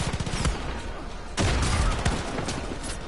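Rapid bursts of automatic gunfire in the co-op shooter game Far Cry 5, dense overlapping volleys with sharp cracks, a louder barrage kicking in midway and continuing to the end.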